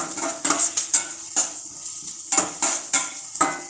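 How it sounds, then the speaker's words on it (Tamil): Thinly sliced onions being sautéed in a pan, with a bright steady sizzle broken by repeated metallic scrapes and clinks from a spoon stirring, close and fairly loud. "நல்லா வதங்கணும் இப்போ வெங்காயம் வந்து நல்லா நமக்கு வதங்கணும்"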